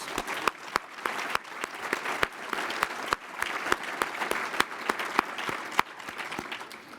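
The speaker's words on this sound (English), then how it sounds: "I'd like to give them all a round of applause." Audience applause at a public schools address in Akron, a steady wash of clapping with a few sharper individual claps standing out, moderately loud and unbroken for several seconds.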